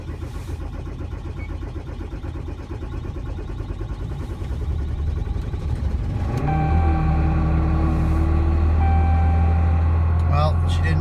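A 2016 Ram 3500 Cummins diesel pickup cold-starts at -20 degrees, cranking under wind noise before catching into a loud, steady near idle with a whining drone, while a person talks.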